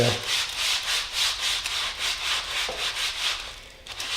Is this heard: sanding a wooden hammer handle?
yes